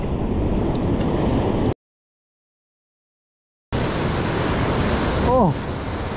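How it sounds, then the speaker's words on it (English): Big ocean waves crash against shore rocks on a rough autumn rock-fishing day, a loud continuous roar of surf and wind with a short gap of silence partway through. "these waves are so big right"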